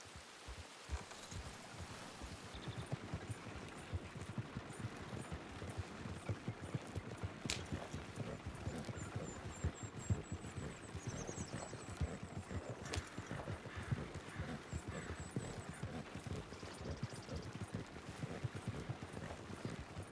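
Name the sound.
horse hooves clip-clopping, from video game Red Dead Redemption 2 roleplay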